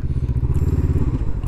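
Honda CB500F twin-cylinder motorcycle engine turning almost on the spot at low speed, a steady, close, low, pulsing idle-like throb with no talk over it.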